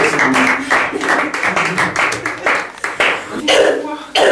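Audience claps at the end of a show, dense and fairly loud, with a few coughs and voices mixed in.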